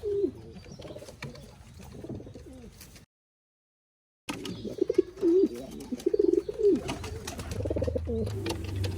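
Pigeons in a pigeon loft coo softly, then more loudly and closer after a short silent gap, giving repeated throaty calls over low background noise with no speech.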